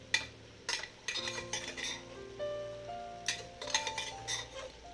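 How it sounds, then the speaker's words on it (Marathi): Bhogi vegetables with peas and brinjal sautéed in a pan for a Makar Sankranti dish, heard as close metal utensil scrapes and clinks against the pan, with a tonal hum and no voice. "आणि चांगलं परतून घ्या."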